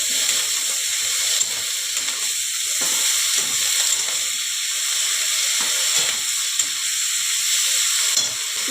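Potato pieces, added to a pan of hot oil along with brinjal for a fenugreek-greens dish, give off a steady, loud sizzle and hiss. The frying noise runs continuously and evenly throughout, with no voices over it.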